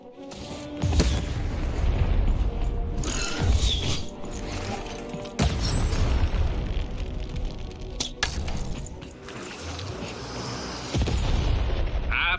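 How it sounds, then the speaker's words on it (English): A cannon fires repeatedly in the Lost In Random video game: heavy booming blasts with sharp cracks and mechanical clunks, several loud shots spread across a dense, rumbling game soundscape without speech. "the button to fire the cannon"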